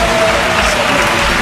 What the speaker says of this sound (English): Applause from the crowd, even in the replay.